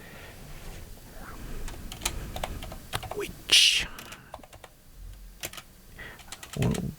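Fingers tapping on a computer keyboard in scattered bursts of quick, close clicks, with one louder clack midway and a short pause before a final flurry.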